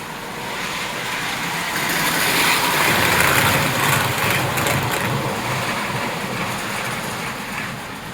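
Old aluminum passenger train cars roll past at moderate speed, a broad steady rumble and hiss that swells and fades as they go by, with faint clicking of wheels over rail joints.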